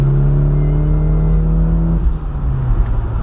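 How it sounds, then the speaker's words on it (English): A Mitsubishi Lancer Evolution X engine with an ACT HDSS clutch drones low and heavy under load in fifth gear, a steady strained rumble that shifts pitch slightly as it struggles at low speed. "The car doesn't like fifth gear when you're going slow and you tromp on it."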